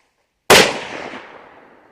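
A single loud, sharp report from a Ruger .308 rifle cracks out nearby at a target, followed by a decaying echo that rolls away over a second or so.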